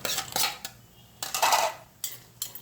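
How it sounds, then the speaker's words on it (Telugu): Roasted peanuts are tipped into a mixer jar, giving short bursts of hard rattling and clinking against metal, separated by brief quiet gaps, close and moderately loud. "జార్ తీసుకొని ముందుగా వేయించి పెట్టుకున్నాను కదా పల్లీలు, ఈ పల్లీలు వేసేసుకుంటున్నా"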